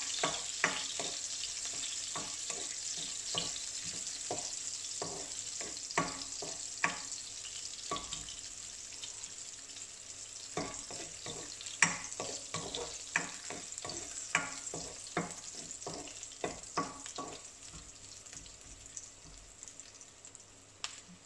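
Prawn curry ingredients for a Sri Lankan dish fry steadily in a pan, a continuous sizzling hiss punctuated by frequent sharp pops and crackles, close and moderately loud, with no voices.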